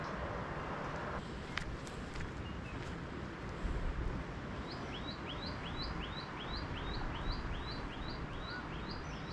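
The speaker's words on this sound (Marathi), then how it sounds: "पक्ष्यांचा चिवचिवाट आवाज ऐकू येतोय खूप सारा" Birds chirp in a steady run of short repeated calls along a coastal trail near the sea, moderately near over a constant wash of wind and surf, with a few scattered tweets earlier.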